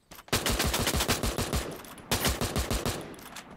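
Rapid bursts of automatic gunfire crackle loudly and continuously during a player-versus-player firefight in an online shooter game, with a brief pause before a second volley.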